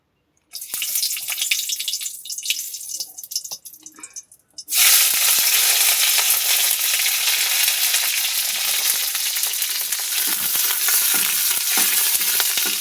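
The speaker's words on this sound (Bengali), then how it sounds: "লঙ্কা রসুন দিচ্ছি।" Green and dried chillies with garlic dropped into hot mustard oil in a kadai, a soft crackle at first that bursts into a loud, steady sizzle and holds, with no talk.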